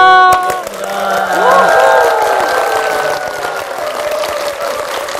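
A church congregation claps and cheers loudly in a hall, and the burst of crowd noise fades gradually. Voices are heard among the applause.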